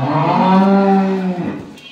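A Holstein Friesian dairy cow lets out one loud, close, sustained moo lasting over a second, with a rich low tone that fades out, on a farm during milking.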